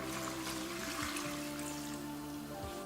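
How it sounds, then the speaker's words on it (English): Water poured into a Breville Fast Cooker holding lamb chops and garbanzo beans, a faint steady trickle and splash with shifting tones as the liquid fills the pot. "So I'm just gonna add water."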